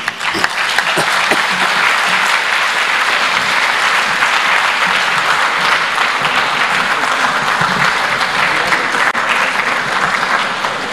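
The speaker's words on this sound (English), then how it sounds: "let's give His Excellency Thabo Mbeki another big round of applause" A large audience at an Africa Day lecture by Thabo Mbeki breaks into loud, sustained applause, a dense, even roar of clapping that holds steady for about eleven seconds.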